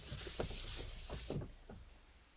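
Writing is rubbed off a classroom board with a duster, giving a steady close scrubbing swish with several rhythmic strokes for over a second, then fading to quiet room hiss.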